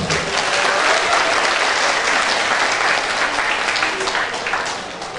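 Audience applause fills a Buddhist Dhamma talk hall, dense and steady clapping from many hands that swells briefly and then gradually tapers off, with no voices over it.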